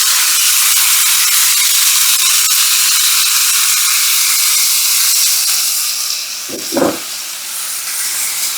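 Meat hitting hot oil in a pan, bursting into a loud, steady sizzle and hiss that continues throughout, with a brief clatter near the end.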